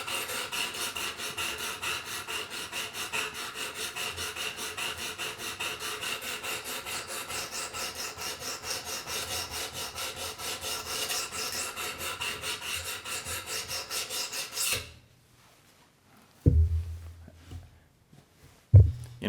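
A knife blade is drawn again and again across a 220 grit abrasive on a Work Sharp Pro Precision Adjust sharpener. The close, rhythmic rasping strokes run steadily for about fifteen seconds, then stop, leaving a few light knocks and handling sounds.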